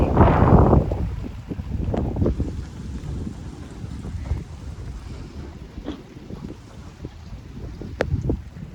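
Strong wind storm sweeping past a house above a hillside maize field, gusting roar buffeting the microphone, loudest in the opening second and again near the end, with steady rushing in between and no talk.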